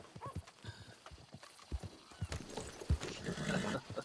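Horse hooves clip-clop in an uneven walking rhythm in the video game Red Dead Redemption 2, fairly close, with a faint whinny and soft background ambience.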